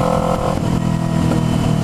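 A Kawasaki Ninja 250R motorcycle engine with a loose, misplaced exhaust runs loud and close, giving a raw, rattly drone that dips briefly and then holds steady.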